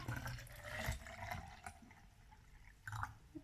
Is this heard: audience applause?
no